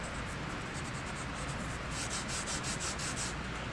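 A finger rubs chalk to blend it in a steady scratchy rhythm of close strokes, growing slightly stronger and more pulsed in the second half, with no voices.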